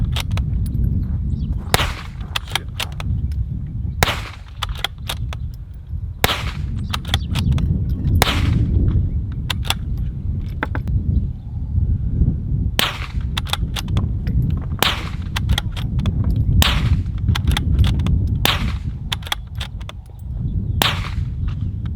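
Bolt-action .22 LR rifle firing a long series of sharp, evenly spaced shots, some unsuppressed and some suppressed, over a dense low rumble of background noise.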